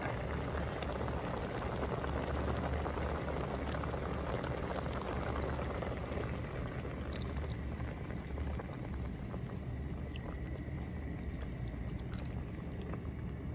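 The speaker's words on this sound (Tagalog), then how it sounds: "Lagyan na natin ng gata." Coconut milk poured into a pot of crab stew on the stove, a steady bubbling, sizzling wash of liquid that holds loud and even throughout, then eases slightly, with no talking.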